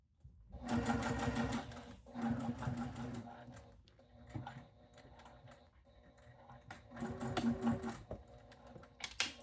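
A sewing machine back-stitches a fabric pouch in several rapid mechanical bursts separated by short pauses, close and fairly quiet.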